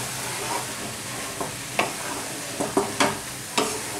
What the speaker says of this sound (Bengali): একটু নাড়াচাড়া দেবো আমি বেশ করে